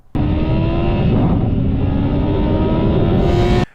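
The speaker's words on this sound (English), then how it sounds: "I've got the wicked Kawasaki ZX-9R back out again" A 24-year-old Kawasaki ZX-9R sportbike, fresh from a clutch swap, revs hard close by in one sustained loud high-pitched engine howl that starts abruptly and cuts off sharply after about three and a half seconds.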